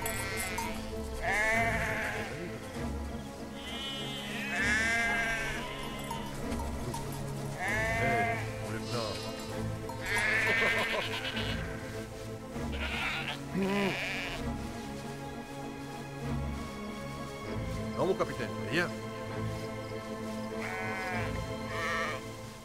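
Sheep bleat repeatedly in the video game Valiant Hearts, several loud overlapping cries over music and game ambience.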